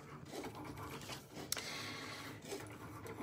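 A Cricut cutting machine works through a design with a continuous quiet mechanical whir and faint ticking carriage movements, heard close and alone.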